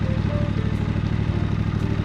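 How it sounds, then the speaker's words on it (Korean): A Triumph Scrambler 1200X with a 1200cc 270-degree crank engine and right-side exhaust thrums steadily at low riding speed, a continuous loud, close rumble with no pauses. "제가 좋아하는 270도 크랭크 각도를 가진 엔진에서 나오는 특유의 배기음이 오른쪽으로 나온 언머플러에서 지금 두두두 하고 나오고 있는데"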